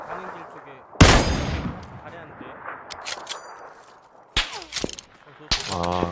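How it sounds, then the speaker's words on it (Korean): Gunfire in the battle royale game PUBG (Battlegrounds): several sharp, loud shots and short bursts crack out at intervals, some near and some farther off, while a player briefly murmurs. "총소리 들리는데"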